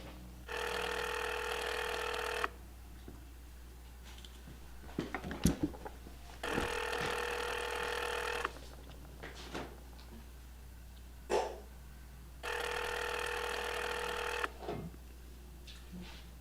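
A telephone ringback tone sounds three times, each burst about two seconds long with quiet pauses between, as an outgoing call waits to connect. Faint thumps and a dog barking are heard in the gaps.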